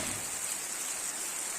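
Steady rain falls with a soft, even, continuous hiss, faint and distant, with no distinct drops or thunder.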